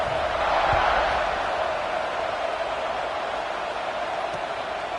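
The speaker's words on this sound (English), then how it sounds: "this crowd is buzzing after that last score" Football stadium crowd at a FSU versus Michigan State game humming after a score, a steady broad murmur of thousands of distant voices with a slight swell early on, faint and even throughout.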